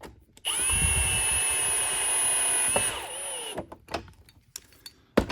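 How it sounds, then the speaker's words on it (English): A power drill on clutch setting 1 whirs steadily for a couple of seconds while servicing a Hoover Tempo vacuum, then winds down, followed by a few scattered clicks and knocks close by. "I know this drill really well."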